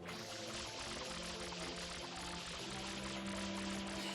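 Steady, dense rush of spraying water from the water nozzle in Super Mario Sunshine, continuous and fairly close for the whole stretch, with no talking over it.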